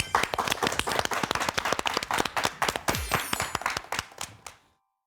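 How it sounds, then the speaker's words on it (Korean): An audience claps to welcome a speaker giving a talk on the COVID-19 coronavirus: sharp, uneven handclaps from a modest crowd, loud and close, fading out abruptly near the end. "박수로 청해 듣겠습니다"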